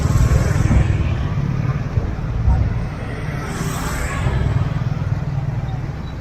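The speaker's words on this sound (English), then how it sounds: "Look at all the bikes." Motorbikes and other vehicles roll past on a busy street at Riverside night market in Siem Reap, Cambodia, a continuous low engine rumble with swells as bikes go by, close to the listener, under crowd noise.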